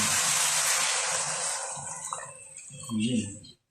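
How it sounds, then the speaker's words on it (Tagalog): Water said to come from the Pasig River is poured in a steady, loud splashing stream that tapers off after about two seconds, followed by a few fainter splashes and knocks. "Tubig na galing pa ng Ilog Pasig."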